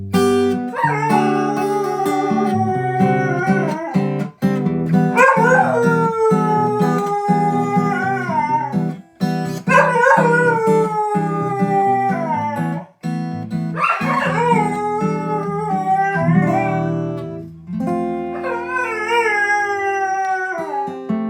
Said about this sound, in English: Welcome to the AI Learning Lab and dog singing competition.